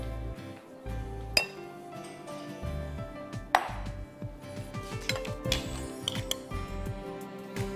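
A metal spoon clinks sharply against a dish a few times while crunchy salsa is spooned onto a gulab jamun dessert, close and clear, with softer scraping and tapping between the louder chinks.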